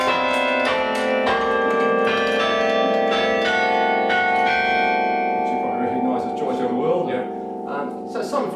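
Eight church bells ring out a slow hymn tune, each strike lingering and overlapping, with the ringing fading into softer tones near the end.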